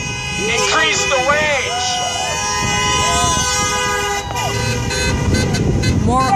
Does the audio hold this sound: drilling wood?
no